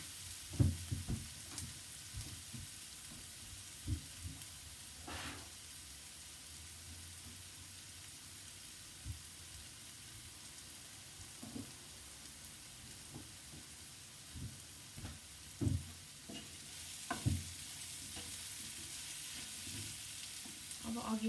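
Turnip and potato curry with cumin powder sizzles in a hot pan, a soft continuous frying hiss broken by scattered scrapes and clicks of stirring, fairly quiet and close.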